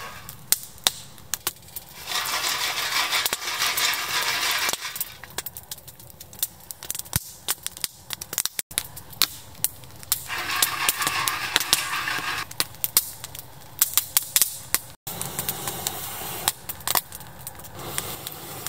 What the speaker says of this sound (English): using an old antenna from a radio as a blowpipe